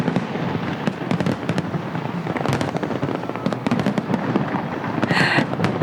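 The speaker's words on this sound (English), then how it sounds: "People watch this fireworks display all over the world." Dense crackling and popping of New Year fireworks bursting continuously over London and Edinburgh, a busy barrage of bangs with a rumbling background.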